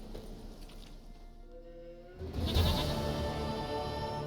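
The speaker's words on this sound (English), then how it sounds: "Goat of mine, dearest, sweetest goat." A goat in The Witcher 3 video game lets out a bleat that swells in partway through, a wavering nasal cry over a steady background hum of game ambience, moderately loud and fairly close.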